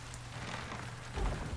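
Rain beginning to fall by a lake dock in the video game Resident Evil 4 Remake, a soft, steady patter with a low hum underneath and a slightly stronger splash near the end, with no voices.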